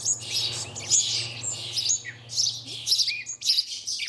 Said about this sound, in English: These chaffinches and sparrows are greedy little customers.